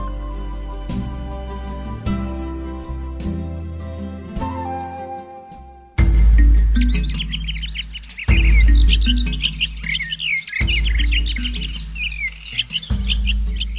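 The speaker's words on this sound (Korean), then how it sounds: "이름 모를 새들이 밤을 지내려고 둥지를 향해 날아갔습니다." Birds chirp and twitter in a forest at dusk as they head to their nests, the bright calls rising over a steady music backing, with a low thumping swell midway.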